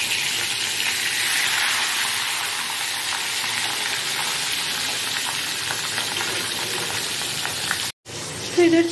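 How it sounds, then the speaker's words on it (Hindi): Fish frying in hot oil, a loud continuous sizzle and crackle close up that runs almost the whole time, cut by a brief dropout before a few clatters at the end. "एंड एक फिश तो फ्राई हो चुका है, ये दूसरा वाला हो रहा है"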